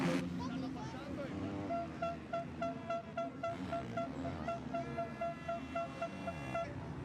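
Fans blow air horns at the Mantova MX1 motocross race in Italy. Repeated short, loud toots come in a steady rhythm over a constant background roar from the racetrack.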